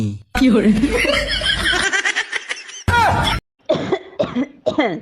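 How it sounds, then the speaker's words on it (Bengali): A person coughs close to the microphone in several harsh, loud bursts separated by brief silent gaps, with some breathy, laugh-like sounds mixed in. "এই কি হয়েছে কাশতেছো কেন"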